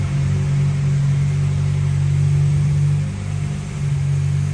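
A coupe with a K-series engine swap idles while warming up, producing a steady, loud, close mechanical hum with low rumble and no talking.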